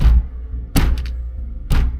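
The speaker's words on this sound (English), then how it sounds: "If I knock the desk though" Knocks against a desk land as about three heavy, close thuds spaced under a second apart, each a dull wooden thump with a brief rattle after it.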